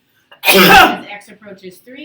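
One loud, sudden sneeze bursts out during a calculus class lecture. A teacher's speech follows it right away.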